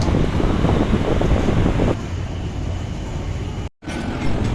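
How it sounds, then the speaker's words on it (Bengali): Tejas Rajdhani Express of Indian Railways entering a station: a loud, steady rumble and rush of the moving train with wind buffeting, easing slightly midway, with a brief dropout near the end. "আর এখন দেখতে পাচ্ছ আমাদের ইন্ডিয়ান রেলওয়েজের তেজাস রাজধানী এক্সপ্রেস সে এখন স্টেশনে ঢুকছে"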